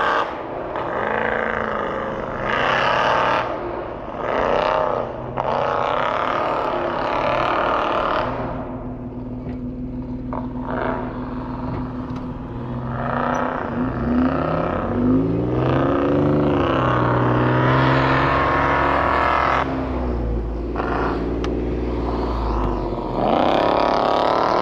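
A small off-road buggy driven hard through snow at a snow drag event, its engine revving and surging in repeated bursts with rising and falling pitch, loud and close, with the churn of wheels in snow.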